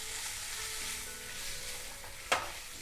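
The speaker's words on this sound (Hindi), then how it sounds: "इनको भी एक बार चला लेते हैं हम सारे मसालों को।" Spices sizzle steadily in a hot pan for mushroom do pyaza while being stirred, a continuous frying hiss with a brief louder scrape of the spoon near the end.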